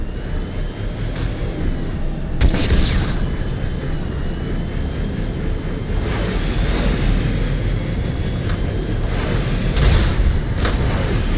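A vehicle fires guided missiles in Mass Effect 2 Legendary Edition: several whooshing launches and booming bursts rise above a constant roaring engine-like drone, with loud peaks near the start and again later on.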